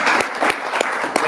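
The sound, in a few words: applause for new club members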